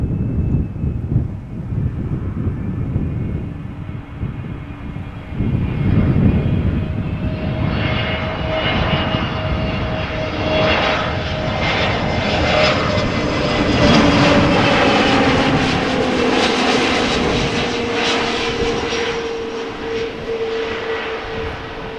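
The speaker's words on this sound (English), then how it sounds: "this Neo didn't have any difficulty putting its wheels on the ground" An Airbus A320neo airliner landing at Amsterdam Schiphol, its engine roar loud and close with a rising whine, wind buffeting the microphone as it passes, then a long fading rumble.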